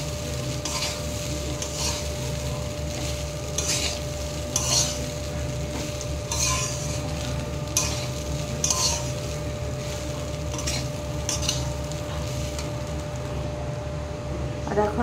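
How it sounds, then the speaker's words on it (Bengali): Washed flattened rice (poha) being stirred in a pan, with repeated scraping and light clinks of the utensil over a low sizzle and a steady hum. "সব চিঁড়েটা আমি দিয়ে দিলাম। দিয়ে একসাথে ভালো করে সব মিশিয়ে নেব।"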